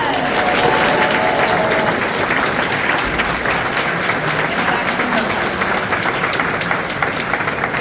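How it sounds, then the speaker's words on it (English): A large crowd at an elementary school's 5th grade graduation ceremony claps in a loud, dense, sustained burst of applause that fills the whole stretch without letting up. "Let's give them a round of applause."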